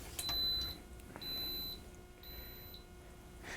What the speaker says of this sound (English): wait for it to beep to indicate that it started up